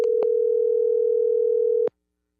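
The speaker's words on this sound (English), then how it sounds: "why don't we just take a phone call out to New York, reach out to our man Cold Coffee" A steady telephone dial tone hums alone for almost two seconds as a call is placed out to New York, bracketed by short clicks at the start and a click as it cuts off.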